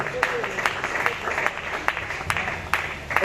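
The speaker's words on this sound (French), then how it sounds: "nous le recevons avec nos acclamations" A church congregation applauds and acclaims Francis as he walks forward, scattered clapping with a few sharper claps under a murmur of voices.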